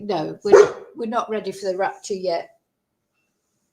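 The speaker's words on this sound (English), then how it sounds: "that was my dog barking" A pet dog gives a short bark near the start while a person talks nearby, and the voice carries on before the sound stops in silence.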